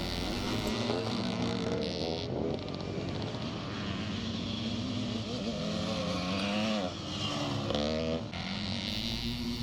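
Classic scramble motorcycles, including a Husqvarna and a 360 CZ, race around the Kendal Revival track, several two-stroke engines buzzing and rising and falling in pitch as they pass, loud and continuous.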